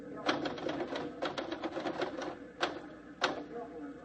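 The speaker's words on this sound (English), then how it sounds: "You finished typing that banquet story yet?" Keys clacking on a 1950s newsroom typewriter in an old radio drama, a few sharp strikes spaced irregularly with short pauses, under soft background talk.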